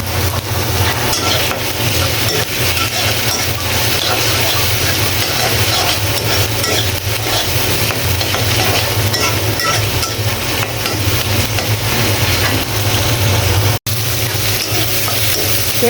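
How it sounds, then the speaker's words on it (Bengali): Prawns frying with onion in a pan make a loud, close, steady sizzle with occasional stirring scrapes, continuous for the whole stretch apart from a brief dropout near the end, and no talk. "পেঁয়াজের সাথে আমি চিংড়ি মাছটা দিয়ে ভেজে নিচ্ছি"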